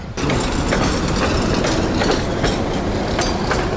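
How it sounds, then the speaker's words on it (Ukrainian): An old tram rolls along its rails in Dnipro, Ukraine, with loud continuous wheel rumble and rhythmic clacking at close range, and no voices. "Я думав, у Львові старі трамваї, блін, а тут ще старіші."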